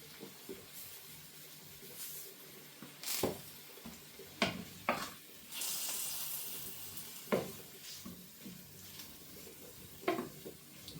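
Mushrooms and garlic sizzle in butter in a frying pan, a soft steady hiss broken by sharper clinks and scrapes of stirring and a louder burst of sizzle midway.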